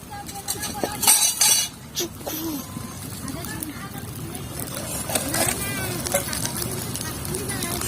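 A metal griddle set down on a clay stove and covered with a lid, heard as a few metallic clinks and clanks near the start under steady talking and background hiss.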